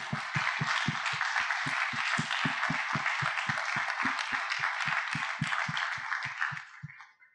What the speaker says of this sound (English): let's just give all a round of applause for Tony